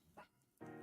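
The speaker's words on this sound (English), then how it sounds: "Why am my dog barking?" A dog in a home barks twice in quick succession, faint and somewhat distant, with the second bark longer and fuller.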